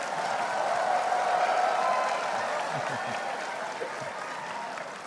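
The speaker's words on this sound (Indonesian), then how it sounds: "Agak kenceng nih tepuk tangannya nih." Loud, sustained applause from an audience after a political speech by Anies Baswedan fills the whole stretch as a dense, steady wash of clapping with no pauses.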